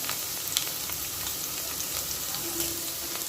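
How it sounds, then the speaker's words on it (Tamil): Onions sautéing in a pan for mutton dalcha, a continuous soft sizzle and crackle close by, with occasional faint clinks of stirring. "இப்போ வெங்காயம் நல்லா வதங்கிட்டுருக்கு வெங்காயம் நல்லா வதங்கட்டும்"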